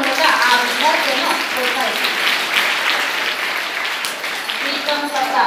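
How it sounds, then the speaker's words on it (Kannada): An audience at a school sports and prize-giving event claps steadily for a student, the dense applause running throughout with a voice talking over it. "ತಮ್ಮ ಚಪ್ಪಾಳೆಗಳ ಮೂಲಕ ಆ ವಿದ್ಯಾರ್ಥಿಯನ್ನು"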